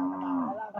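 A carabao (water buffalo) lows once on a farm during a deworming and vitamin injection round, a close, loud, short moo that tails off within a second.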